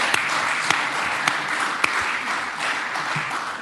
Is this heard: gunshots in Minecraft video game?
no